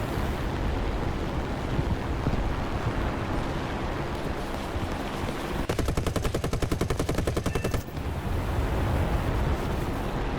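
A P-26 Peashooter fighter's machine guns fire a rapid, evenly spaced burst of about two seconds in War Thunder, over a steady roaring engine and wind noise that continues before and after.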